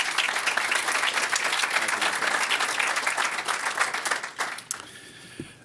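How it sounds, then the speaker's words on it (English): Audience applause for a speaker called forward at a North Carolina justice commission meeting, steady dense clapping from a roomful of people that holds for several seconds, then thins and fades out. "let's give Dean Levy a round of applause"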